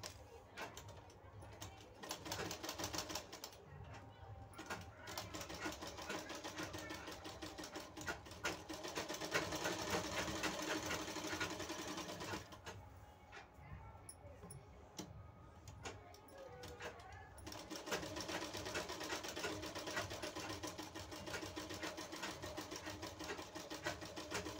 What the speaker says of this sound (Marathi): तिथून आपल्याला शिलाई मारून घ्यायची आहे